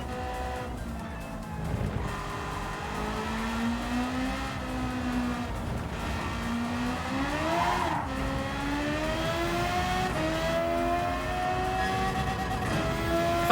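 Group 3 FR race car engine in the video game Gran Turismo 7, revving continuously with rising and falling pitch through gear changes, a buzzy motorbike-like whine held close and loud throughout.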